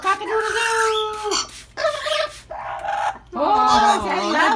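A wet Amazon parrot imitates a rooster's crow in several drawn-out, warbling calls broken by brief gaps, loud and close.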